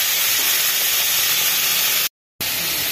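Dried fish (shutki) fries in a pan with a loud, dense, continuous sizzle and hiss close up, broken by a brief moment of total silence near the end, no voices.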